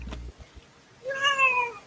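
A pet cat lets out a single drawn-out meow, close and fairly clear, after a couple of soft thumps in a quiet room.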